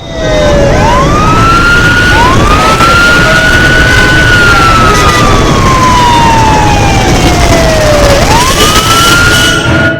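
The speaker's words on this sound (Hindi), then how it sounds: "चारों तरफ एम्बुलेंस की आवाज थी" A loud, close ambulance siren wails in long rising and falling sweeps, repeating slowly over a steady traffic rumble.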